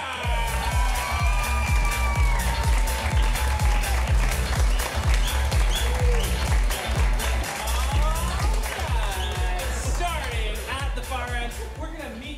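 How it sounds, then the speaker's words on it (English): An audience at a comedy show applauding the Curious Comedy Players, with steady rhythmic clapping, cheers and whoops, while music with a beat and a voice run over the crowd. "give a nice warm round of applause to the Curious Comedy Players"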